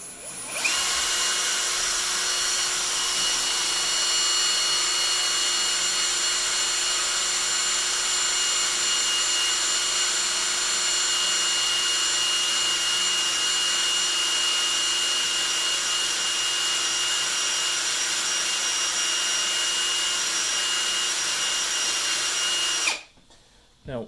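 A CNC machine drills the last hole in a setup, a loud steady whine and grinding hum running continuously for over twenty seconds before cutting off abruptly near the end.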